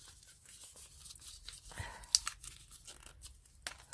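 Paper slips bearing names being folded up for a prize draw, quiet crinkling and rustling in short irregular bursts, close and soft with one sharper crackle.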